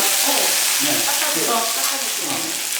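Chicken frying in a pot just after the lid comes off, a steady bright sizzle that holds evenly for a few seconds with no talking.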